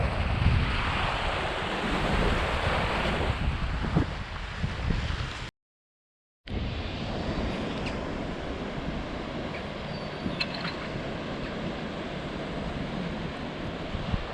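Steady broadband wash of North Sea surf rolling onto the shore near Dunstanburgh Castle, Craster, with strong wind buffeting the microphone; a brief dropout of silence partway through.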